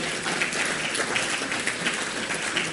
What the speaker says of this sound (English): Again, request for another round of applause